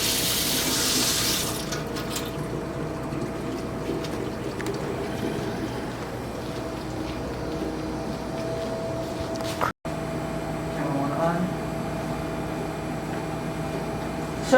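Water runs steadily from a tap, a continuous hissing splash with a brief cut near the end, then the flow continues.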